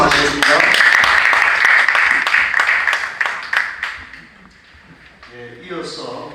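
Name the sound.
audience applause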